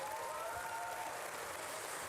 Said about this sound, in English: Give another round of applause for Mary Perry